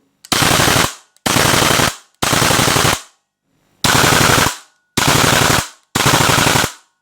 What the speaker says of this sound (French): La cadence de tir n'est pas énorme, hein.